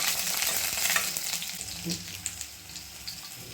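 Unpeeled garlic cloves sizzle in hot tempering oil for a roasted garlic sambar, a close, steady frying hiss with light stirring scrapes and small pops, no voices.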